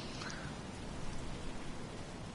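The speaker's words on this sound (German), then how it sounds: "Ja, Regen, ja, ist halt Regen." Steady rain from the F1 2016 racing game at the Australia round, a continuous broadband hiss that holds at an even, moderate level for the whole stretch with no voices over it.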